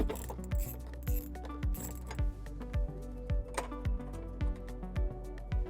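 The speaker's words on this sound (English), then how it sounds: "we're now going to remove this bolt using a 10mm socket." A ratchet with a 10mm socket loosens a taillight bolt on a 2019 Jeep Wrangler, giving about a dozen evenly spaced clicking strokes, close and crisp, with light metallic rattles between them.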